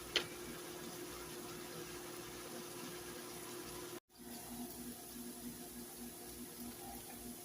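Browned ground chuck has its grease drained off into a kitchen sink, a steady running-water rush that continues throughout, briefly cut off at one point and then resuming at a similar level.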